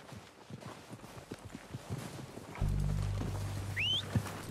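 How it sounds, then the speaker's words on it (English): Horses clip-clopping toward the listener in Red Dead Redemption 2, a run of hoofbeats growing nearer over a low rumble, with a brief neigh near the end. "They're coming down with the horses."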